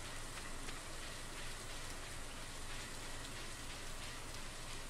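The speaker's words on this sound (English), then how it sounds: "A warm rain is a pleasant way to get clean." Steady rainfall in the farming video game Stardew Valley, a dense, even patter of drops on surfaces that stays constant and fairly quiet throughout with no speech.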